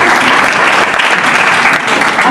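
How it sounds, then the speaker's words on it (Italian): Loud, close applause from an audience at a town economics event in Malegno, a dense continuous clatter of clapping rewarding a correct quiz answer. "un applauso"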